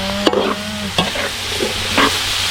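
Small anchovies (dilis) frying with tomato in a pan, a steady close sizzle broken by several sharp scraping clatters of a utensil stirring against the pan.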